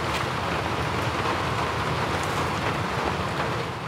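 Steady rain falls in the video game Skyrim, a dense, even hiss of drops that continues without pause and with no talk over it.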